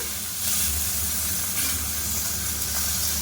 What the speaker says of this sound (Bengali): মোরল্লা মাছ এই যে হলুদ দিয়ে দিয়েছি অল্প কটা ভেজে রাখবো খাওয়ার জন্য